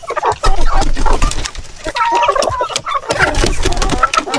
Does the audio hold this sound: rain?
no